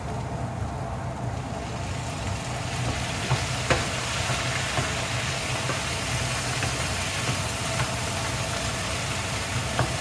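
Soy sauce sizzles in a frying pan with mushrooms, a steady broadband hiss of frying with faint stirring clicks, continuous and fairly close.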